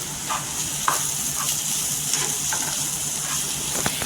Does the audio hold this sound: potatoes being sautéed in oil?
yes